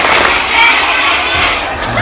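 A gathered congregation at a religious talk in Tsim Sha Tsui claps three times in unison on cue, loud crowd claps blending into a sustained, reverberant hall noise.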